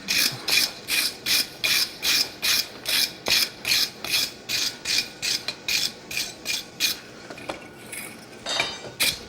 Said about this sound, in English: I'm going to do some drawing on this shank on the power hammer.